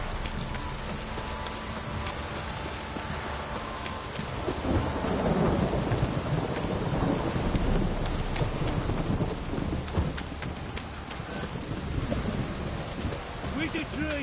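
In the video game The Witcher 3, steady heavy rain pours down with rolling thunder rumbling through, swelling louder midway, a continuous stormy downpour.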